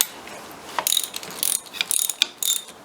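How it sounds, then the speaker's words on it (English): A hand ratchet clicks in short irregular bursts while tightening a flywheel bolt on a dirt bike, its sharp metallic pawl ticks close and distinct with small gaps between strokes. "Then you can just ratchet the bolt"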